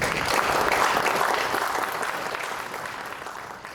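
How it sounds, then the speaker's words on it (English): An audience at a PyData tech talk applauds in a dense, sustained wash of clapping that slowly fades over a few seconds. "Let's give him a long round of applause"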